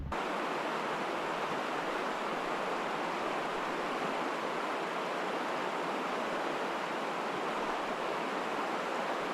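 A river rushes over rocks along the Dempster Highway in Canada, giving a steady, dense wash of water that stays close and even throughout, with no voices.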